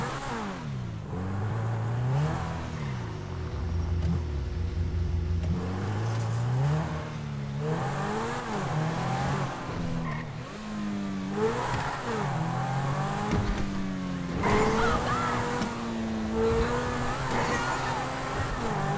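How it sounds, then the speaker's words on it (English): A Lamborghini in the video game GTA 5 driven through Rockford Hills, its engine revving up and down in repeated rising and falling sweeps, loud and continuous with gear changes. "We now have Michael DeSanta in his new Lamborghini car in the Rockford Hills."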